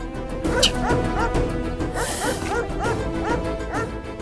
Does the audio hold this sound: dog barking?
yes